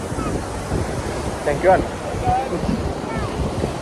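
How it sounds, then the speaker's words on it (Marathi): Sea waves wash onto a beach over heavy wind buffeting the microphone, a continuous rough surf noise. Brief speech and faint voices come through on top. "तर हे बघా आमची हे समुद्र आहे"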